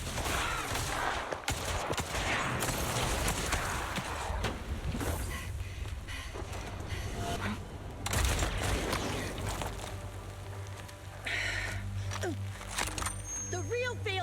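Sniper rifle fire in Zenless Zone Zero, with several sharp, loud shots and impacts scattered through dense game effects, mixed with speaking voices.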